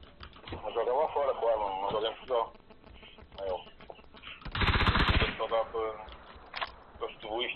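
A rapid burst of gunfire in the video game PUBG, crackling and dense, lasting under a second amid ongoing talking, with a few fainter shots scattered around it.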